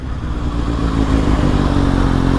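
Steady, loud engine drone of a 600 class sportbike ridden slowly in sixth gear at about 29 miles per hour, a continuous mid-low hum with light mechanical clatter and no pauses.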